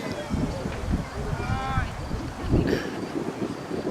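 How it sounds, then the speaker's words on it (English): Gusty wind buffets the microphone on an open soccer field during a high school match between Brookline and Framingham, a steady low rumble with surges throughout and faint voices in the background. "Wind is picking up again."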